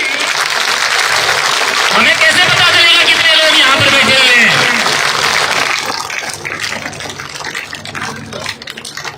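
Crowd applause at a village political rally in Hasanpur, Gannaur: loud, dense clapping that fades after a few seconds, with someone speaking over it through a loudspeaker and a hum of crowd noise.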